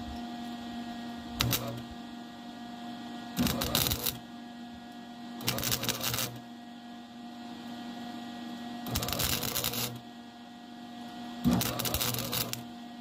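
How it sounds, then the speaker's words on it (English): Tack welding on a Subaru, heard as five short bursts of crackling, buzzing arc, each lasting under a second, spaced a couple of seconds apart over a steady background hum. "I'm gonna have to fucking tack it real quick so I can see."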